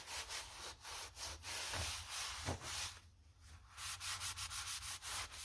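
Cloth or shop rag wiping up WD-40 spilled over a John Deere G tractor carburetor float bowl, a close, steady series of rough rubbing strokes with short pauses between swipes.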